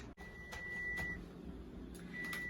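Kitchen timer beeping during home cooking, a high steady electronic tone sounding once for about half a second and again at the end, faint over low room noise.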